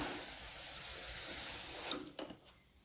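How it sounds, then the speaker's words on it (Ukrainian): A steam iron presses vest lining pieces with a steady soft hiss that cuts off near the end, followed by a few quiet handling knocks. "Зараз прасуємо пілочки."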